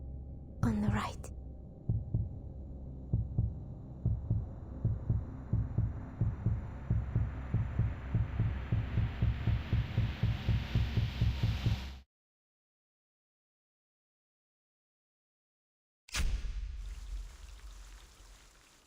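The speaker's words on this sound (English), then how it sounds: "Don't forget my heartbeat." A slow, steady heartbeat thumps loudly in a video game, with faint whispering layered over it and rising in pitch until it cuts abruptly to silence, then returns briefly after the pause.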